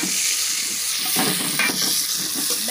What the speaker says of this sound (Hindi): अभी हमारे डल गए हैं टमाटर